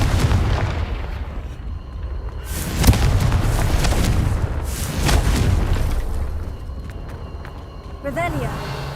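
Repeated fiery Confringo spell explosions in the wizarding game Hogwarts Legacy, several sharp booms and bursts scattered over a constant rumbling din. A voice talks over it near the end.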